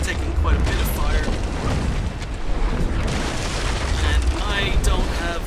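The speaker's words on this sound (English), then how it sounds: "I'm being fired at by Tier 3s right here." Ship cannon fire in the naval battle game Naval Action, heavy broadband booms rolling continuously under a dense rumble of battle noise as larger Tier 3 ships fire.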